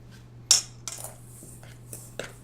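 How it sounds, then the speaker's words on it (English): Flour and baking powder being stirred for a blueberry cobbler, a few light clinks and scrapes of a utensil against a bowl, close and quiet over a faint steady hum. "And then the baking powder. And sort of stir that up."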